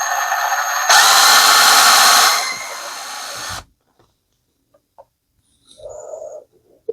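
A power drill boring a hole close to the edge of a workpiece, a loud continuous whine for about three and a half seconds, then silence with a few faint clicks and a brief later burst of sound.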